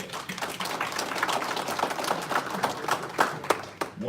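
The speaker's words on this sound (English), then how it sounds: "So they deserve the right to applause." Applause for the field staff at a union general membership meeting, a crowd clapping steadily and fairly faintly for about four seconds, heard at a distance in a hall.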